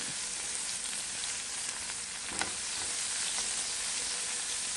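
Shrimp sautéing in a home cooking pan beside tomato, giving a steady, continuous broadband sizzle and frying hiss throughout, with a brief sharper crackle midway and no talking.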